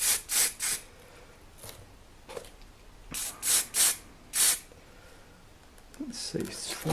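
A spray can of white primer hisses in several short bursts over a miniature figure, with quiet pauses between them and someone speaking briefly.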